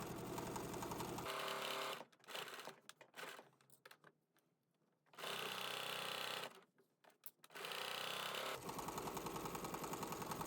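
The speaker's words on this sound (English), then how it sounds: "So go ahead and stitch at 5/8 of an inch seam allowance." A sewing machine stitches a 5/8-inch seam on a garment, running in long steady whirring bursts with a short quieter gap between runs, close and clear with no talk.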